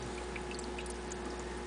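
Lake water flowing down beneath netting and through a tube with a 90-degree bend, a steady close gurgling rush with a faint hum underneath, constant throughout, no talking.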